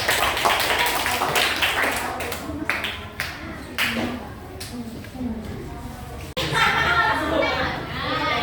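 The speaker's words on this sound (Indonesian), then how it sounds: "Tepuk tangan untuk kita semua dong." Children clapping their hands at a health talk, with uneven bursts of claps mixed with kids' chatter and an adult voice, then a livelier round near the end.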